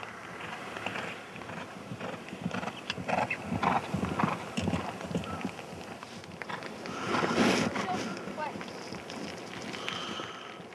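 A horse galloping during a long-distance endurance race: a rapid, rhythmic drumming of hooves, fairly close, swelling and easing under wind and someone speaking French.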